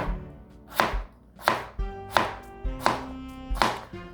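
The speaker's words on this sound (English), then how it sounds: "just cut your potatoes" A kitchen knife chops through potatoes on a cutting board, five or six sharp, evenly spaced knocks close up, each with a brief scrape, and no voices.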